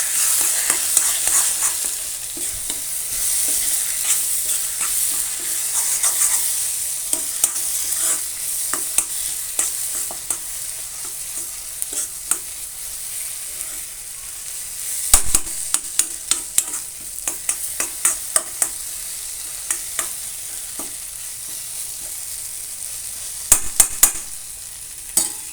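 Kothu parotta being mixed and fried in a pan: a long, steady hiss of sizzling under intermittent scraping and clattering of a spoon against the pan, with brief louder clusters of clinks near the end.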